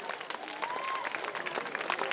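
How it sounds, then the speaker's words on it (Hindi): Applause from an alumni gathering audience welcoming a staff nurse, dense and steady clapping with a faint tonal whistle-like sweep partway through. "एक बार जोरदार तालियां हो जाए मैडम के लिए"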